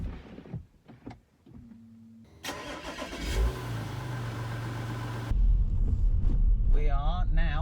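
A crash-repaired Audi A5 on its first test drive: short bursts of talk, then the engine starts and settles into a steady mid-pitched running hum that grows louder as the car moves off.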